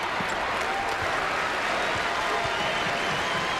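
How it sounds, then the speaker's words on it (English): Basketball arena crowd applauding Jayhawk players at a 2002 Big 12 game, Iowa State at Kansas: a steady, dense wash of clapping from a large crowd, evenly sustained throughout with no talk. "the crowd continues to applaud the good effort and the hustle by the Jayhawk players"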